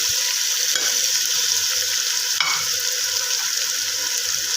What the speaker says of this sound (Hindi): अब मैं इनको अच्छी तरह से इनकी भुनाई कर लूँगी।